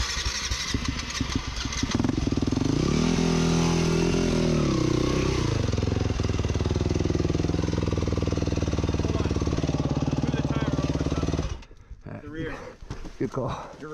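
Hard enduro dirt bike engines climbing a rocky cliff trail at Warner Valley near Sand Hollow, a loud sustained rev and chug close by that cuts off abruptly, leaving scraping and rattling, with a voice speaking over it.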